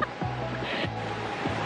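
Continuous rushing water, a broad steady wash like a stream or surf, with a low mechanical hum and faint rhythmic thumps underneath.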